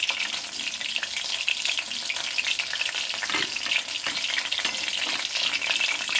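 Chicken pakoras deep-fry in hot oil with a loud, dense, continuous sizzle and crackle, close by, as the fritters are stirred in the pan.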